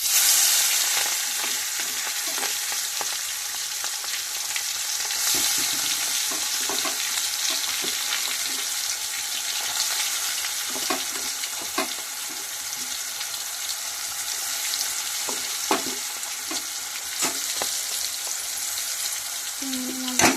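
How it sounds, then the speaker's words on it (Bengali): Marinated prawns sizzle and fry in hot oil in a home kitchen, a steady close crackle with occasional stirring clatter and small pops throughout. "এরপরে ম্যারিনেট করা চিংড়ি মাছগুলো তেলের মধ্যে দিয়ে দেবো।"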